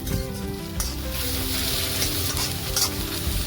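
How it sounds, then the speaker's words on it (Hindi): Coarsely ground paste sautés in a pan for a Mughlai paneer dish. It makes a loud, steady sizzle with light stirring strokes, and no voices. "इसको भी आप अच्छे से सॉटे कर लीजिए, इसका कच्चापन दूर हो जाए।"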